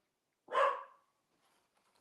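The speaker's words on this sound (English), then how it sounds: "What are you barking at?" A house dog lets out one sharp, loud bark, which fades quickly into near silence as if the dog is reacting to something outside.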